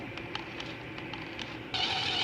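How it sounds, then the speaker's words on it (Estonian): A combat robot's electric motor runs on a bench test, giving a steady whirring hum that suddenly turns louder and brighter near the end as power is stepped up. "Nii, ja paneme selle tööle. Mootor liigub."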